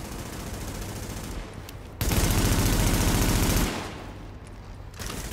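Rapid automatic gunfire at a gas station in the video game The Division, a loud, continuous burst of shots lasting under two seconds amid steady game ambience.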